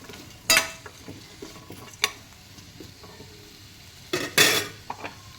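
Food being sautéed in oil in a home kitchen pan, with a soft background sizzle broken by sharp clanks and scrapes of a spoon against the pan, a few isolated knocks early and a louder cluster of stirring near the end.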